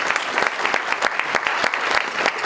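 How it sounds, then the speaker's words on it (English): A round of applause for a legislative delegation at a Chamber of Commerce breakfast, with loud, close, continuous clapping from a roomful of people and sharp individual claps standing out throughout. "How about a round of applause for them?"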